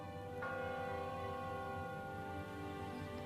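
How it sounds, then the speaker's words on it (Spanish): A church bell struck once near the start, its sustained metallic ringing and overtones decaying slowly over a low steady rumble. "cuando miraba esta campana de iglesia y apenas podía sentir su sonido"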